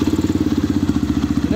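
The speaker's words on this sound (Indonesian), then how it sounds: "Ini posisi motor hidup ya." A Yamaha Vixion motorcycle engine idles close by with a loud, even, rapid thumping pulse, steady throughout with no voices.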